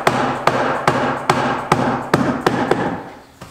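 A hammer drives a timber panel door's bottom rail onto its tenons, striking about eight close, sharp blows at a steady pace of roughly two per second.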